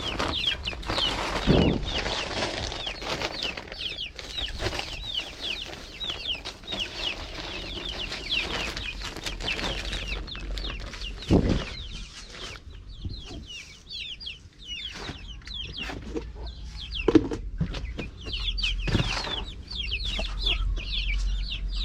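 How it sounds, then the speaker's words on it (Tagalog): A flock of chickens clucks and cackles continuously, many birds close by, with occasional louder squawks and some rustling. "hindi pa kumain tong mga manok ko eh"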